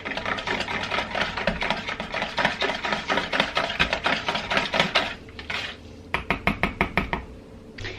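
Pumpkin cake batter whisked briskly in a bowl, a fast run of close, sharp metallic ticks that pauses briefly and then resumes for a few more strokes, with no voices.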